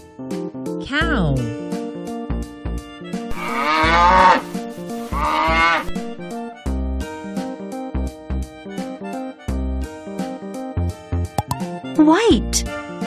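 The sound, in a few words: cow mooing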